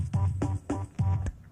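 Turntable scratching forms a hip-hop ending: four quick, evenly spaced scratch strokes of a tonal sample, each a short sweeping burst, close and clear with brief gaps between them.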